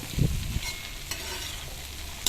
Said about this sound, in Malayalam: നമ്മൾ അരിഞ്ഞ് വെച്ചിരിക്കുന്ന പാഷൻ ഫ്രൂട്ട് കഷ്ണങ്ങൾ അതിലേക്കിട്ട് ഇളക്കി യോജിപ്പിക്കുക